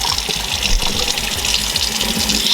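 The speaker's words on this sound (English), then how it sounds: "make sure to turn your water on high" A kitchen sink tap runs at full flow while spaghetti is drained, producing a loud, continuous close-up rush of water with no talking.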